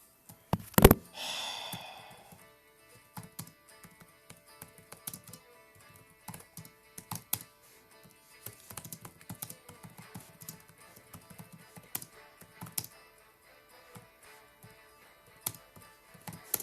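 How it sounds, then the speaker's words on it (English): Computer keyboard typing during a video game session: sparse, irregular clicks and light taps scattered throughout, with one louder thump near the start, fairly close and quiet, with no voices. "I've sort of just been typing at random points in the episode"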